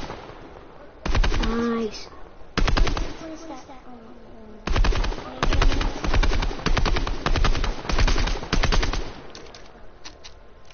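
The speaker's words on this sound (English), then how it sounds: "And then there's the gunshots." Bursts of rapid automatic gunfire from a Fortnite gun rattle in several long volleys with brief pauses between, loud and close; a voice speaks briefly once.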